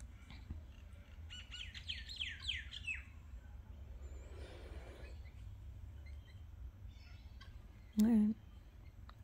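A wild kookaburra perched on a person's lap outdoors gives a burst of high chirping calls early on, then a short, loud, harsh call near the end over a low background rumble.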